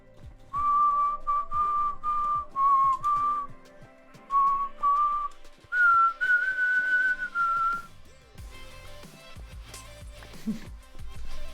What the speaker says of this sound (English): Attempts to whistle, spits all over the place.